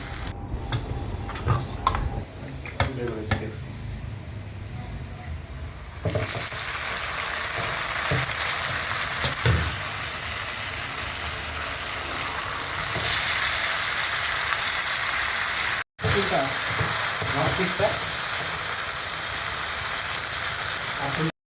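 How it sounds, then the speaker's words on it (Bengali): Beef pieces frying in a kadai with onion and garlic give a loud, steady sizzle, with a few clinks and stirring ticks near the start. Near the end the sizzle cuts out briefly, then returns. "এখন আমি কড়াইতে কিছু মাংস দিয়ে দিচ্ছি"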